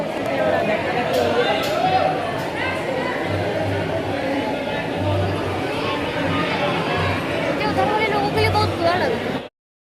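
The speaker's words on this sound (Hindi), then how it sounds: "तो आप लोगों ने देखा कि कितनी भीड़ थी" Crowd of temple visitors chattering, a dense babble of many voices close around, steady and loud for nearly the whole stretch before cutting off abruptly.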